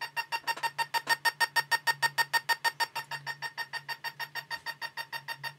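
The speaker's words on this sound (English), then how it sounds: "the different sounds tell the infrared what to broadcast to the helicopter" Control tones for an infrared toy helicopter sent from a headphone jack, a fast, steady stream of beeping pulses with a bright, buzzy, alarm-like ring and a low hum underneath.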